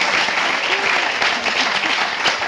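An audience at an education conference claps loudly and continuously for a school director, a dense, sustained wash of many hands with a faint murmur of voices beneath.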